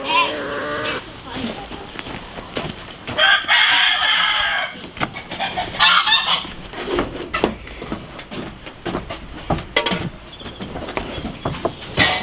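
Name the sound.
chicken chicks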